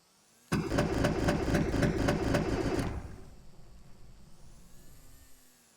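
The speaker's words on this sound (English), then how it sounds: "It kind of sounds like it's ticking over and then it stops." A boat engine in the game Stormworks ticks over in a steady, rapid mechanical chug for a couple of seconds, then cuts out and fades to a quiet, dying rumble.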